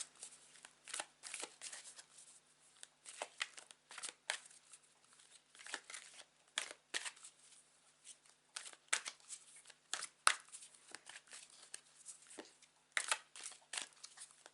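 Tarot cards are shuffled repeatedly up close, with quick papery riffles and flicks in irregular bursts against an otherwise quiet background.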